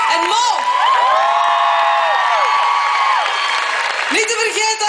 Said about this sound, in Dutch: En een daverend applaus voor mijn prachtige backings,